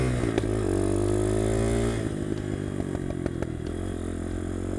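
A poorly tuned motorcycle engine revs up and then drops back, with sharp pops and crackles spattering through the exhaust as it settles, loud and close.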